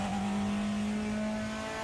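A super touring race car in the RaceRoom racing game holds a steady, loud engine drone at a near-constant pitch, with a small pitch shift at the start and no voices.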